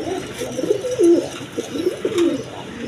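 Pigeons kept for sale at a market coo close by in low, throaty bursts that rise and fall, with steady background bustle underneath.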